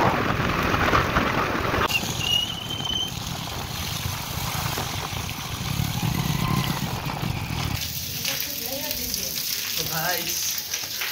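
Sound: motorcycle ride home in the rain

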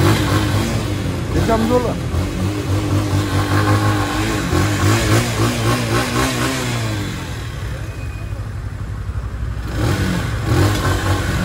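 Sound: Mondial Drift RKS motorcycle engine revving

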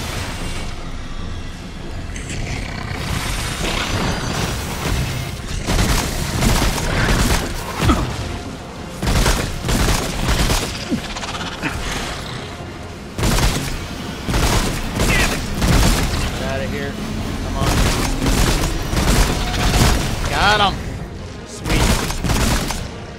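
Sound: gunfire from video game Remnant: From the Ashes

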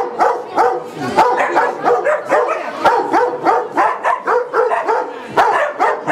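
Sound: dog barking

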